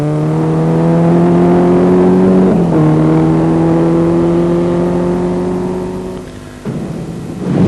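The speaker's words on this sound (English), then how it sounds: "Bruce Herbert, the Subaru Impreza." A Subaru Impreza rally car on a forest stage at the Snowline Rally in Ohakune: a loud, sustained engine note holding steady, a quick gear change, then the sound fading as the car moves off before another burst.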